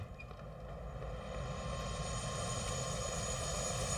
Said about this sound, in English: Hope you enjoyed the helicopter ride.